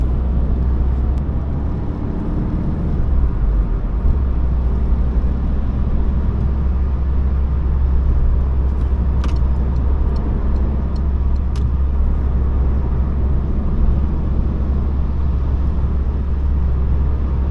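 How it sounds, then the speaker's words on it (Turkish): A Citroen C-Elysee 1.6 HDi turbo diesel car drives steadily, its engine holding a low, even drone under a constant road rumble throughout, with no talking. "Aracın motoru inanılmaz canlı."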